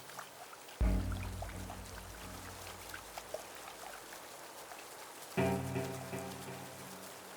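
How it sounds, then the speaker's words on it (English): Torrential rain pouring down on the Maasai Mara, a dense steady hiss of drops on the ground, broken by two deep rumbling thunder-like booms. "Torrential rain begins to pour on the Maasai Mara."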